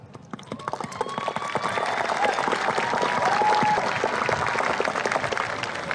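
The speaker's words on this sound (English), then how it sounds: "I would also like to extend a round of applause to all the parents and guardians of my fellow graduates" Graduation ceremony audience applauding the graduates' parents and guardians: loud, sustained clapping from a large crowd with some cheers, building and holding steady throughout.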